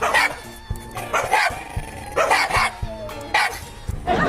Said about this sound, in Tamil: ரோட்ல நாய்ங்க ஒன்ன பார்த்து ஒன்று குலைச்சிருக்கு.